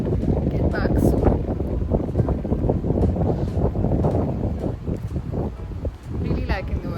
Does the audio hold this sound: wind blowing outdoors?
yes